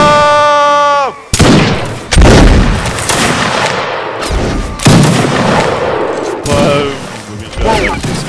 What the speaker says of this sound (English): That's a fucking mortar, man.